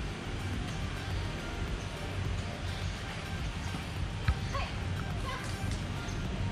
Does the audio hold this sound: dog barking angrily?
yes